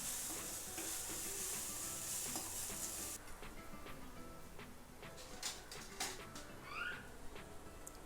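Ridge gourd peel chutney with garam masala being stirred and sautéed in a pan over low heat, a soft steady sizzle with scattered scraping and ticking stir sounds, quiet and close.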